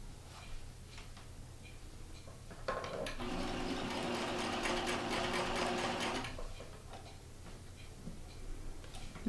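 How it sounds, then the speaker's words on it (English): A sewing machine runs a steady burst of stitching for about three seconds along a quillow seam, 1/8 inch from the edge, starting and stopping cleanly amid quiet room noise. "I start stitching just about 1/8 of an inch from the edge"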